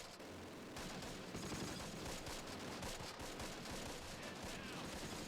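Machine gun fire in Close Combat: Wacht Am Rhein, a continuous crackling fusillade of rapid shots running throughout, fairly faint and steady with no pauses.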